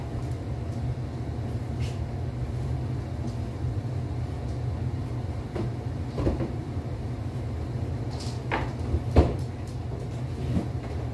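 Kitchen cabinet door opening and closing in a home kitchen, a few scattered knocks and thumps over a steady low background hum, moderately close.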